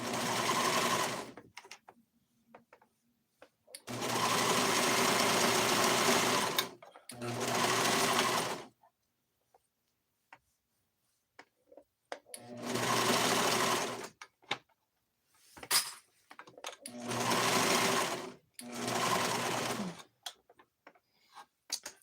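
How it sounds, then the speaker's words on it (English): A Brother sewing machine or serger stitches a cardigan in several loud bursts of steady whirring, each a few seconds long, separated by quiet pauses and soft handling clicks. "I am working on a brother sewing machine or serger."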